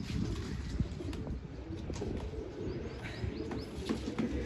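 Pigeons at a rooftop loft give soft, low repeated coos close by, with faint chirps and light rustling in the background.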